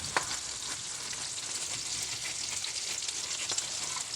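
Spam frying in reheated cooking oil makes a constant close sizzle and crackle, with occasional sharp pops and light stirring clicks.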